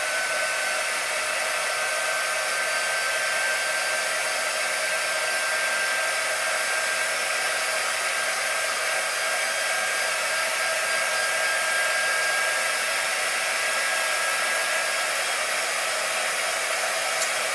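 A hair dryer blows steadily on chalk art, a loud, even whoosh with a faint whine that holds unbroken throughout, with no talking.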